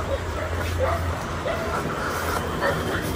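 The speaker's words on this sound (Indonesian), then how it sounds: "Wih, kita disambut sama guguk" Dog barking at a village house in the late afternoon, a few yips and barks rising over a steady outdoor background, with people talking nearby.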